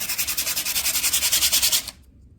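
Close, rhythmic back-and-forth rasping of sandpaper scrubbing dirty brake pads, about a dozen quick strokes, then it stops abruptly into near silence.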